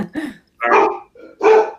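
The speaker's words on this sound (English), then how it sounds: "They're like at this bark fest." Dogs bark at a delivery truck, a clipped yip and then two loud, full barks right next to the listener with a little growly texture.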